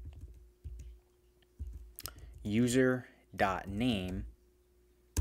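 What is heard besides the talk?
typing on a computer keyboard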